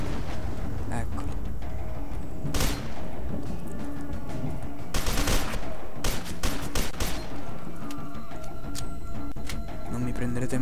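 Gunfire in the shooter game F.E.A.R. 2 crackles in dense bursts and booming blasts over a noisy game soundscape, with a few louder volleys.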